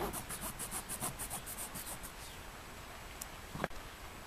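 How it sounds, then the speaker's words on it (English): Carburetor float material is cut to width by hand, giving a rhythmic back-and-forth sawing rasp that slows and fades, followed by a brief sharp click near the end. "need to cut this float material down to the correct width of the stock float"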